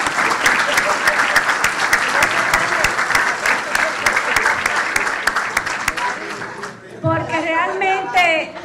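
A crowd applauds steadily with dense clapping that fades near the end, when a voice begins speaking.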